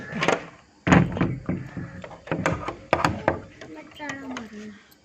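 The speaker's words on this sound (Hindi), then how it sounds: "दरवाजा रुक जा, दरवाजा बंद कर दूँ।" A door at home is pushed shut, giving a couple of dull thunks and knocks between stretches of close, lively talking in Hindi.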